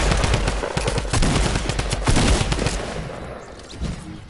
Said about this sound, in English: Now it's a drum gun.